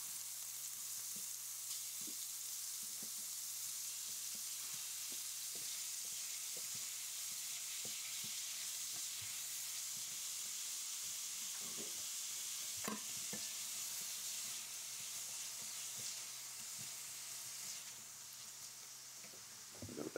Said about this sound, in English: just so we want to brown it, seal it in.